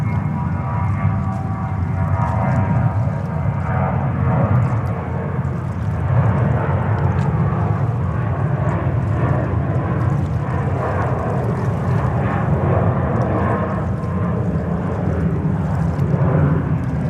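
An airliner departing JFK bound for San Jose roars steadily in the distance, a constant low engine rumble with no talk over it.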